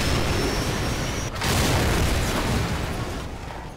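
A Stinger missile launched and detonating in Call of Duty 4: Modern Warfare, a loud roaring blast with a sharp crack partway through, followed by a long sustained rumble that slowly fades.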